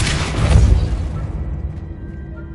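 A Depulso spell cast in Hogwarts Legacy: a loud, close whooshing blast that bursts at once and then fades away over about two seconds.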